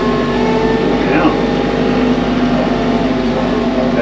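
A tractor engine runs steadily under load while hauling, a loud continuous droning rumble that holds without pause for several seconds.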